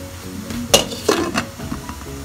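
A lid goes onto a pot of hot Filipino vegetable soup (utan law-oy), giving a few sharp metallic clinks and clanks close by with quiet kitchen background and no talk.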